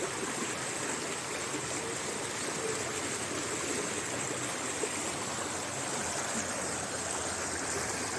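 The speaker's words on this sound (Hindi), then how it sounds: "पानी की कलकलाहट आवाज़ आपको दिखाती है कितना अच्छा है" A stream gurgles continuously as it flows into a deep round pool at a village shrine, a steady, close, full rushing wash with no pauses or voices.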